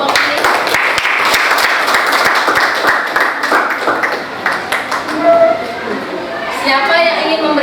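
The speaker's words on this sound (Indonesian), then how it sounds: "tepuk tangan dulu untuk kelompok ini" A classroom group claps in lively applause for a presenting group, dense at first then thinning into scattered claps, with murmuring voices and chatter rising as it fades.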